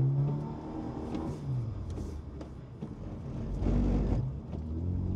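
Car accelerating during a drift, a steady engine drone and whir that rises into a louder rumbling push near the end, heard from inside at moderate level.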